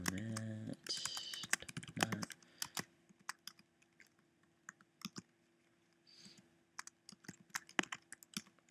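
Code being typed on a computer keyboard: scattered crisp key clicks in irregular bursts and pauses, close and quiet, with a short stretch of indistinct sound near the start.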